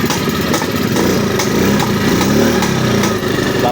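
A Choi Nori motorcycle with a refreshed engine and wiring idles after being started without the key, a loud, close, steady putter that runs unbroken throughout.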